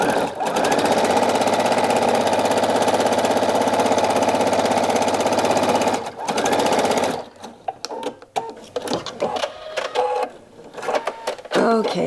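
A sewing machine stitches a fabric strip with a loud, fast, continuous rattling hum for about six seconds, then a short burst, before stopping into quieter handling noises and faint talk.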